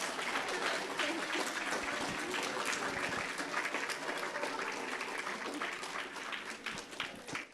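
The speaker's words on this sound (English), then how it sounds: "let's all give Archie a round of applause for singing so beautifully" An audience applauds a singer at a gathering of talks and song: dense, steady clapping from many hands fills the whole stretch and tapers slightly at the end.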